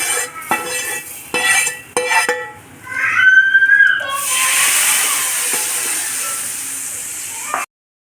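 A few sharp metallic clinks of a spoon against a pot, then a hot tempering is poured into cooked lentils, bursting into a loud, steady hiss and sizzle that cuts off abruptly.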